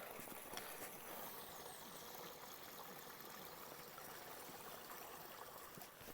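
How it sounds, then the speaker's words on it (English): Water from a spring flowing steadily near a trail shelter hut on a backpacking trail in Shenandoah National Park, a continuous close, broadband rush with no voices. "Wonderful water source here, very close to the shelter, and it's flowing well."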